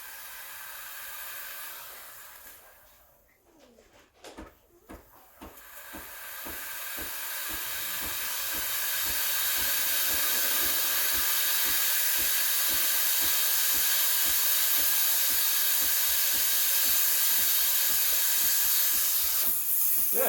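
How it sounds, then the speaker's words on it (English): Breville Barista Express BES870 milk steamer building pressure: a hiss fades and dips while a rapid ticking pump pulses, then a loud, steady steam hiss rises and holds without a break. "So turn on the steamer, wait maybe 10-15 seconds until it starts steaming."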